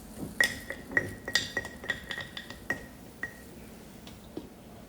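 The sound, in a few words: packing sauerkraut cabbage down into a glass jar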